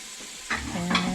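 Butter in a pot for clam chowder made from fresh clams: a brief close sizzle with stirring scrapes and a faint tonal hum underneath, no speech.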